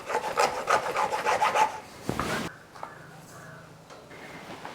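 Rasping, rubbing strokes of a blade cutting through a 12 mm plastic hose, a quick steady burst near the start followed by a sharp snap and quieter handling.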